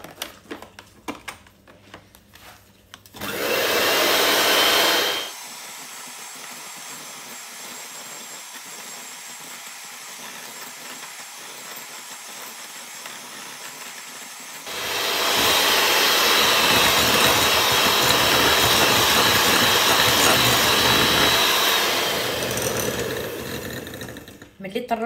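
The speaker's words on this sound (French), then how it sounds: "On va ajouter le sucre et on va battre tout ça." Eggs and sugar beaten with an electric mixer, a steady whirring, mechanical buzz in two long loud bursts, with a quieter stretch between them.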